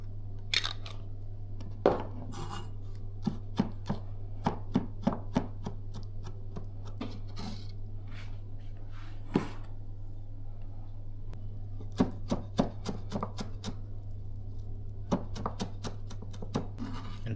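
A knife thinly slices dill on a cutting board, sharp close taps coming in short irregular bursts with pauses between, over a steady low hum.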